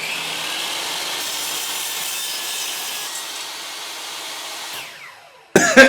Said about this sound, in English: especially when cutting through a gigantic block of wood